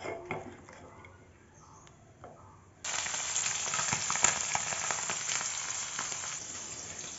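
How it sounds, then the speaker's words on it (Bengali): Fish pieces coated in salt and turmeric frying in oil in a wok: a loud, steady sizzle starts abruptly partway through, after a quieter stretch of faint kitchen noise, and continues close and unbroken to the end. "ওই কড়াইতে মাছগুলোকে ভেজে নিচ্ছি"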